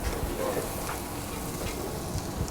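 Rice grains toasting in hot oil in a pan, giving a steady soft sizzle with faint crackles throughout, fairly quiet and close, with no voices.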